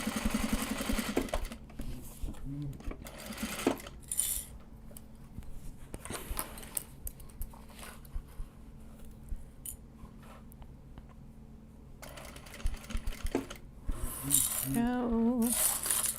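A sewing machine stitches card holders made from Japanese fabrics in short bursts separated by quiet pauses, with scissors snips and light handling clicks nearby.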